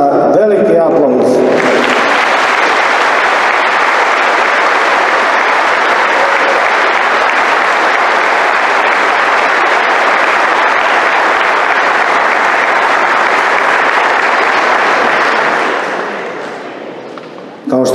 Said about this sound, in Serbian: Ja vas molim za jedan zaista veliki aplauz.